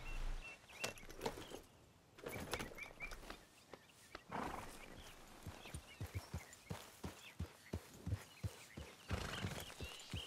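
Horse hooves clip-clop in Red Dead Redemption II, starting in scattered steps and settling into a steady walking rhythm of sharp, moderately loud hits over a quiet game ambience.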